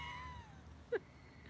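Cat in a barn lets out a single short meow, brief and fairly faint, against a quiet backdrop with a soft steady hum.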